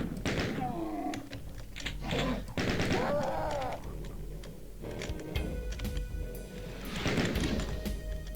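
The super shotgun fires in DOOM II during play on the Titan Manor level. Sharp, punchy blasts crack out several times amid growling monster noises and other game sounds.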